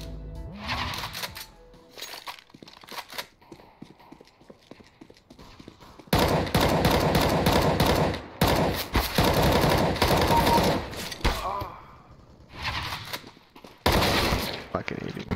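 AK rifle fire in a video game: loud, sustained bursts of rapid automatic shots in long runs, separated by quieter gaps, with some talk underneath.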